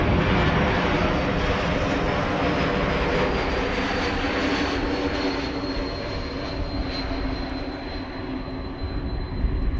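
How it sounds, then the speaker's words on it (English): An Embraer E2 jet with geared turbofan engines passes by at Amsterdam Schiphol Airport, a loud, steady broadband roar carrying a sustained high whistle that slowly drifts in pitch over ten seconds, with no talk. "That's the geared turbofan engine whistle."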